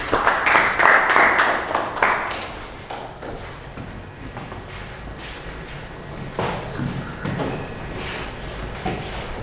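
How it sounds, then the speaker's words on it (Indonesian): A classroom group claps for a presenting team in a teaching session, a burst of fairly loud nearby clapping at the start that fades within a few seconds, followed by scattered claps, room noise and faint activity. "cukup tepuk tangan untuk kelompok 3"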